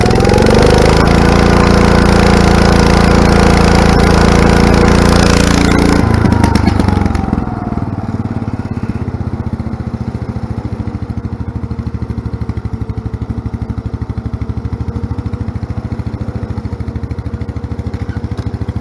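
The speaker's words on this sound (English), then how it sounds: "So I can throttle it up. We're at full throttle." John Deere 110 lawn tractor engine roaring loud and close at full throttle, then abruptly dropping to a lower, steady chugging run for the rest of the time.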